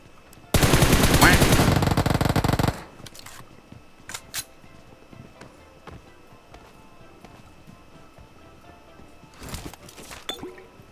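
A rapid burst of automatic gunfire from a shooter video game runs for about two seconds, loud and close. Scattered single shots and clicks follow, then another short volley near the end.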